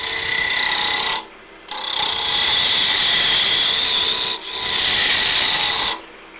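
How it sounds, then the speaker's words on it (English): A roughing gouge hogs material from ash wood spinning on a lathe, giving a loud, steady rasping scrape broken by two short pauses where the tool lifts off the blank. "I'm going to start off with the roughing gouge just to hog some of this material away."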